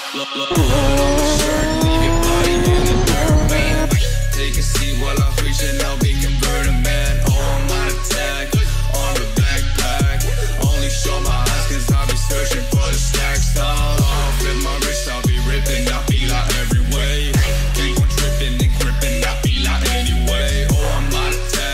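A Honda CBR1000RR Fireblade, a one-litre sport motorcycle, runs on the road with a loud, continuous engine and exhaust note whose revs climb and drop in repeated stepped surges.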